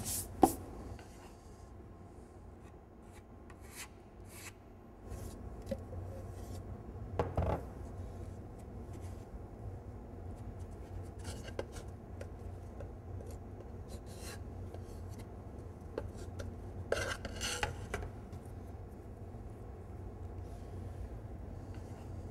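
Veneering adhesive being stirred in a container, quiet scraping and rubbing strokes with a few sharper clicks and scrapes, close and faint against low background hum.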